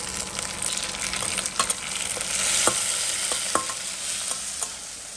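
Tomatoes tipped into browning onions in a frying pan, a steady sizzle broken by scraping stirs and sharp crackles, close and clear with no talking.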